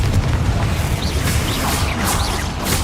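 An explosive Confringo spell blast in the video game Hogwarts Legacy booms loudly, a dense roaring burst of crackling noise lasting a few seconds with no talk over it.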